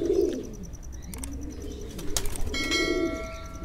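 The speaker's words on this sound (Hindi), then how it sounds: "अभी ये 3 बजे पकड़ा है कबूतर" A caught pigeon gives low, throaty cooing, loud and close, in two bursts at the start and near the end, with some scuffling and background noise between them.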